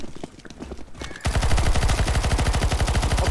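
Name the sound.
gunfire in video game CS:GO Zombie Escape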